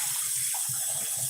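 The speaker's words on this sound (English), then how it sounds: "I'm going to go on and just rinse off the tomatoes as well" Tap water runs steadily into a kitchen sink while tomatoes are rinsed, a close, continuous splashing stream with faint knocks of produce under it.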